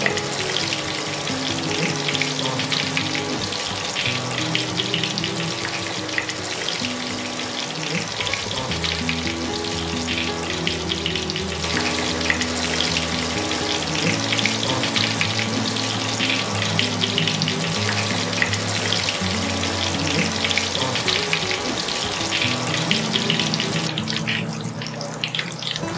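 Pieces of rui fish crackle and sizzle loudly in hot oil, a dense, unbroken frying hiss held close for nearly half a minute with no voices.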